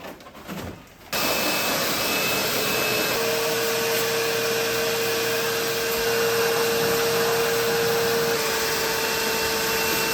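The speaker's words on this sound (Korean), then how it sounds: "물기를 말리려고 선풍기로 지금 물기를 털어내고 있습니다" Electric fan running steadily to dry off a wet surface after water cleaning, starting after a brief rustle and then holding a constant loud whirring hum with a faint tonal whine, with no talking.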